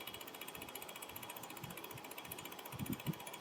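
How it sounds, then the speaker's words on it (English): An automotive fuel pump runs on a test setup, first pumping air and then drawing in gasoline: a faint, steady mechanical whir with a rapid ratcheting pulse and a few louder clicks near the end. "So it's pumping air, now it's sucking in some gas."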